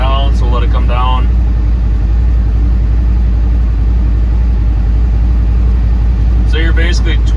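A Polaris vehicle's engine idles steadily in below-zero cold during a heater comparison test, a loud continuous low rumble running throughout, with someone talking briefly at the start and again near the end.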